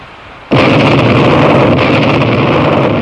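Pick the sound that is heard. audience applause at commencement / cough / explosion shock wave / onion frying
explosion shock wave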